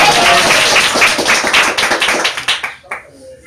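An audience at a stage performance claps warmly in a dense, loud burst that thins out into scattered claps and fades to near silence by the end.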